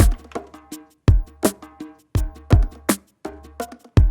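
Djembe groove programmed in Groove Agent drum software, with deep bass slaps and sharp high slaps in a repeating syncopated pattern, close, dry and alone.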